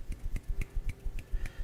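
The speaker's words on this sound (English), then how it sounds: "That's the sound of one hand clapping." A single hand slapping or finger-snapping to make the sound of one hand clapping, a quick run of about seven sharp, close, dry snaps in a loose, uneven rhythm, with no talking over it.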